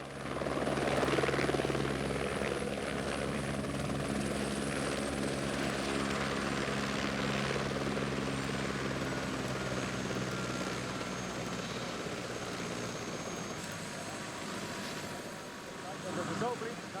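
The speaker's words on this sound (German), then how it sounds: "Der Heli kommt." A helicopter's rotor thumps in a steady, pulsing drone, fairly loud and sustained, with people talking over it, at a snowy mountain hut during a thunderstorm.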